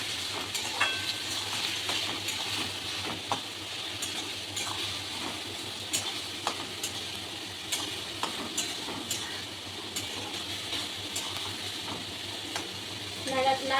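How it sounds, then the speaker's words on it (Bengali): Chana masala fries in a pan while being stirred, a soft steady sizzle with scattered light scraping and clinking from the spoon, fairly quiet and close. "এই দেখুন আমি নাড়িয়ে নিচ্ছি।"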